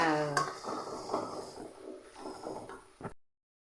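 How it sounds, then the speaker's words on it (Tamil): Ginger-garlic masala sautéed and stirred in a pan: metal spoon scrapes and clanks against the pan over a low sizzle, with a short voice at the start and a final clack before it cuts off. "இந்த மசால் தனியாக பிரிஞ்சு வர அளவுக்கு வதக்கிக்குவோம் அடி பிடிக்காமல் வதக்கணும்"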